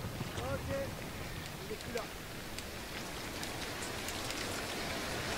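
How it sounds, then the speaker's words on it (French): Steady rain hiss from the video game Hitman: Absolution fills the whole stretch as a continuous, moderately loud wash, with faint scattered sound effects and no speech. "j'adore l'effet de la pluie, je trouve ça trop bien fait"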